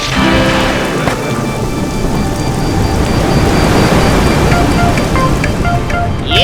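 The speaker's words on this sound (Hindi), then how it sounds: "ये अचानक से इतनी बारिश क्यों होने लगी?" Sudden heavy rain pours down in a dense, steady roar with deep rolling thunder beneath, loud and close throughout with no voices.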